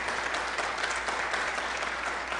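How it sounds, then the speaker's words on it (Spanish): A church congregation applauds steadily before a teacher begins a class on prayer and devotional life, the clapping even and continuous for a couple of seconds with no talking. "vamos a aplaudir para recibir la palabra"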